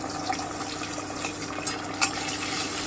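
Cumin paste being stirred in a pan for a pointed gourd korma, a steady low sizzle with a few light spoon scrapes and small clinks, no voices.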